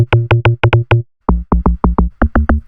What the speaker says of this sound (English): So I've got this hard log drum here.